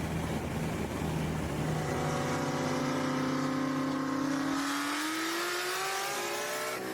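1000HP twin-turbo Ford F-150 street racing: a loud, continuous engine roar rises steadily in pitch under hard acceleration, with no talking.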